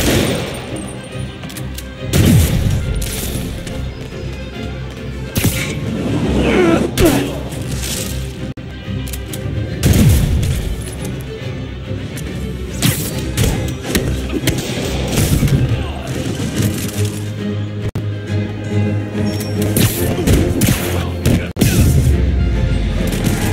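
Criminals fire guns at Spider-Man in the Spider-Man Remastered video game, with scattered cracks and bursts of gunfire, booms and crashes spread across the scene, mixed with game sounds and voices talking.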